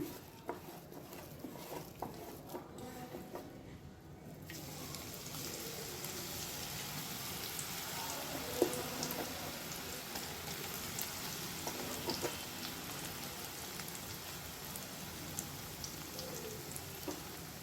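Mushrooms deep-fry in oil, giving a soft, continuous sizzle and patter that stays faint and even throughout, with no voices.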